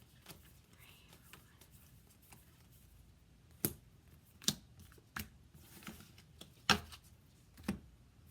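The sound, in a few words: shuffling a new deck of tarot cards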